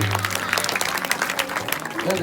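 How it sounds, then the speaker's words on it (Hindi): Audience clapping at a village comedy Ramayan stage performance, a dense ragged patter of many hands with a steady tonal hum or music underneath and voices mixed in. "एक बार जोरदार ताली बजाइए"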